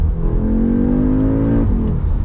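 A 2021 Audi S3 engine pulls hard under acceleration, its note rising steadily in pitch, then drops sharply as the S-tronic gearbox snaps through a quick upshift; the engine is loud, close and heard alone.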